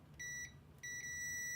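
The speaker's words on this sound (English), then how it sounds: "continuity mode will make a nice little beep when I have a connection between 2 points" Two clear electronic beeps from a multimeter in continuity mode while probing connections during an electronics repair, each a steady high tone with harmonics, the second held longer, over faint room noise.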